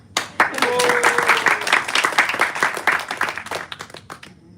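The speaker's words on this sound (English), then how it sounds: "Clap." An audience at a talk on Krishna consciousness breaks into brisk, dense clapping that swells quickly, holds steady, then thins out into scattered claps as it fades.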